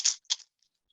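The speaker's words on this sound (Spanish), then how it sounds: "este es el sonido de la guada" A guada, a dried Mapuche gourd rattle filled with seeds or small pebbles, gives two quick dry shakes, a crisp rustling rattle heard alone and close.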